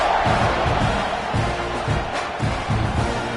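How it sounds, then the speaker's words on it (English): A stadium crowd roars and cheers in a College Football 26 game during a kickoff, with a broad sustained rumble that swells and pulses and a few rhythmic bursts of chanting. "this crowd is feeling themselves after that last drive"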